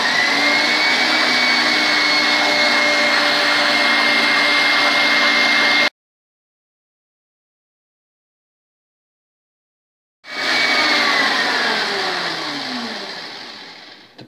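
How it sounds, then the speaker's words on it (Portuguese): An electric mixer beats egg yolks into a fluffy cream for a canned-peach cake: a loud, steady whirring motor runs for several seconds, stops into silence, then starts again and gradually slows. "vamos bater até que se forme um creme fofo. Vamos então colocar a nossa máquina aqui a trabalhar"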